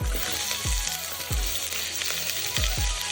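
Onion tipped into hot oil with browned garlic for a French bean curry, giving a quiet, continuous sizzle broken by a few soft, regular stirring knocks.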